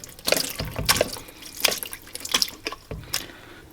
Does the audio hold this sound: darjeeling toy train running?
no